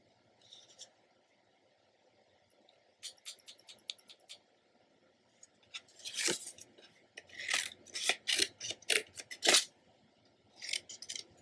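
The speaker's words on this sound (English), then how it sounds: "So I'm going to cut this in half and see what I think." Scissors snip through paper in short bursts of crisp cuts, sparse at first and then quicker and louder, close up and with no talking.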